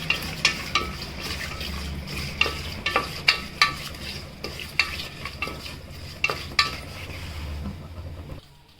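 Cashews frying in a pan, with a steady sizzle under repeated sharp scrapes and taps of a spatula stirring against the pan at an irregular rhythm, heard close up before the sound cuts off.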